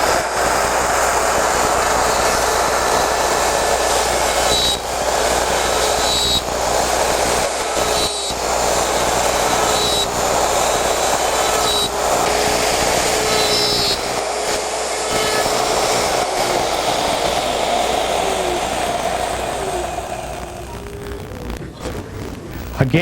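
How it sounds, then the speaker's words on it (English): A router cuts the dovetail shoulder on a Porter Cable Omnijig 7116 jig, a loud continuous high whine with slight shifts in pitch as it moves through the wood, tapering off near the end. "Take your router, we'll do our shoulder cut,"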